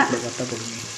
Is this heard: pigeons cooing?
no